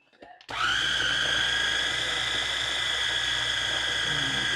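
A food processor mixes ground chicken for nuggets. After a brief rustle, the motor starts abruptly and holds a loud, steady high whir with a low rumble until the end.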